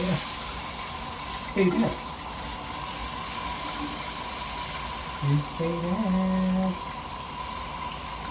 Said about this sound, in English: I'm gonna warm up the water.